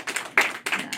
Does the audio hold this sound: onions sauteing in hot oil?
no